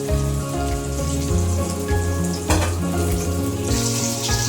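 Onions frying in soybean oil in a pan, a steady dense sizzle with continuous fine crackling throughout and no talking.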